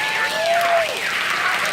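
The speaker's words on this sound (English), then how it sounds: "Those fights deserve another round of applause." Brief burst of audience applause at a film screening discussion, a dense, even clatter of clapping with cheering voices rising and falling over it.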